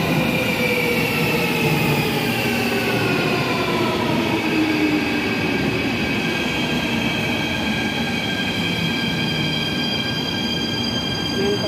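A train on the Athens metro line between Syngrou and Eleonas carries a steady, loud rumble with long screeching wheel squeals and rising and falling tones, running unbroken for the whole stretch.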